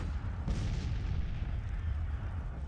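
Heavy artillery fire in the Civil War strategy game Grand Tactician, a sharp boom near the half-second mark rolling into a continuous low rumble of distant cannon fire throughout.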